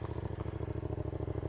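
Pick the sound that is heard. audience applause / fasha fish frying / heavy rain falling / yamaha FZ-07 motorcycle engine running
yamaha FZ-07 motorcycle engine running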